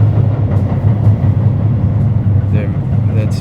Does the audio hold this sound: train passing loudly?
yes